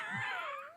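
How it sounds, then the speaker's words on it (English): Dogs whining, a single short, high, wavering whine lasting under a second, clear and close, with no talk over it. "It's Attack of the Dogs."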